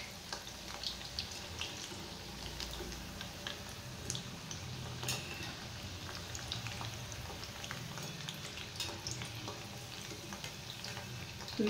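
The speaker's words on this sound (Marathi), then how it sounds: "एक बाजू आपल्याला व्यवस्थित तळून घ्यायची आहे।" Chakli made from poha fry in hot oil, left unstirred on one side, giving a soft continuous bubbling sizzle with scattered tiny pops and ticks, fairly faint and without talk.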